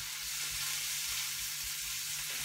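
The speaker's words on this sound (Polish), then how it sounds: "Czyli smażymy po prostu warzywa do miękkości." Vegetables and zucchini fry in a pan, giving a steady, close sizzle and crackle that holds evenly throughout with no voices.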